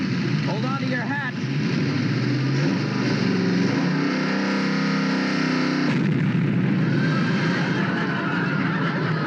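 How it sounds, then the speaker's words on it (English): An old car engine revs in a 1955 television comedy, a loud, rough droning roar that shifts pitch and surges midway, with voices briefly heard over it near the start. "We need all the engine power we can get."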